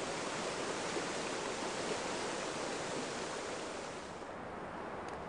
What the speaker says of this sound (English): Rivers flow swiftly in spring